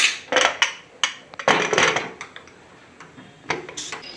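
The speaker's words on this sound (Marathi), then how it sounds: "आणि आपण आता कुकरचं झाकण लावून देऊ." A metal pressure cooker lid is fitted onto the pot in a home kitchen, giving a run of sharp clanks and scrapes, close and fairly loud, with no talking.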